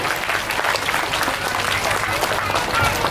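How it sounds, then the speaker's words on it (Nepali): Audience at a religious Mahapuran ceremony applauding to honour a donation, a dense, fairly loud burst of crowd clapping lasting the whole moment. "उहाँलाई घरमा सुनिने गरी ताली बजाएर सम्मान र स्वागत गरौँ"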